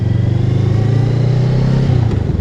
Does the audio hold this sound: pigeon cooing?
no